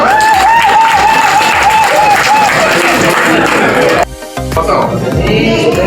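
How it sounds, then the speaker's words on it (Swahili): Applause from an audience at a school event in Kakamega, a steady dense patter of clapping from a crowd throughout, with a voice over it early on; the clapping thins and breaks up near the end. "Makofi."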